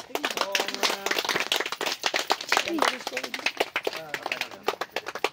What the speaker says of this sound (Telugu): పూర్ణాత వేసేటప్పుడు గట్టిగా చప్పట్లు కొట్టండి